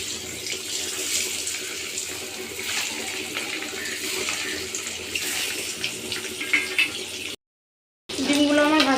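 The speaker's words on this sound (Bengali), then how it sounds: "এবার ডিমগুলো ভেজে নেব।" Scored eggs fry in hot oil with a steady, dense sizzle and crackle, close and loud, broken by a short silent gap near the end before the sizzling returns.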